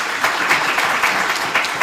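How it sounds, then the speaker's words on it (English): A short burst of audience clapping at a regional State of the Region Address in Otjozondjupa, Namibia, sustained and fairly loud with no speech over it. "Give her a round of applause."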